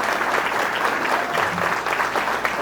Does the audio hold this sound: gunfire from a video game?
no